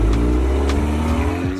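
An Audi TT on the road, its engine droning steadily with a low rumble and rising rev tones, heard close from inside the car without any talk.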